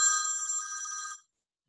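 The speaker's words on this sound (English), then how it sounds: "My phone just rang." A phone rings during an Industrial Revolution lecture, giving one steady electronic trill of about a second that stops abruptly, with silence after.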